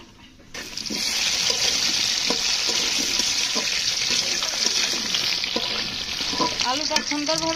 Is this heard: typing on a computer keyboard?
no